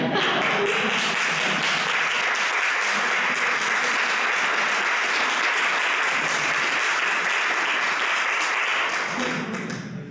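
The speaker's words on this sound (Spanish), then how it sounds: "¿Aplaudimos ya?" An audience claps in sustained, dense applause that holds steady for about ten seconds before starting to taper off at the end.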